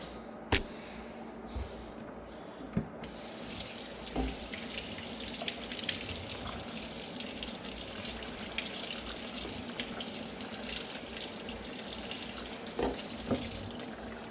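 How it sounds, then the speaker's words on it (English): Water runs steadily from a kitchen tap as dried beans are rinsed of their starch for a country stew, a continuous splashing rush with a few light knocks and clatters from the pot or colander. "There, we rinse all that starch off the beans."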